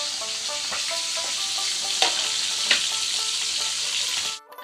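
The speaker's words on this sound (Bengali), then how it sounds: "বাকি মাছগুলো আমি এইভাবেই ভেজে নেব।" Small fish (chara pona) frying in hot oil give a steady, close hiss and crackle with a few sharper pops and stirring clinks, ending abruptly.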